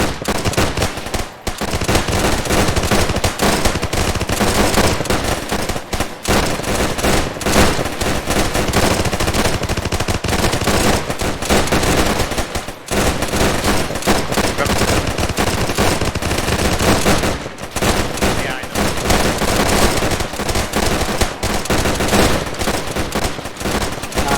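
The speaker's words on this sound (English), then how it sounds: "So, aim and fire at your own leisure. I'll tell you when to stop." M1 Garand rifles fire at a range in a relentless, loud barrage of overlapping shots, many shooters going at once with hardly a pause throughout.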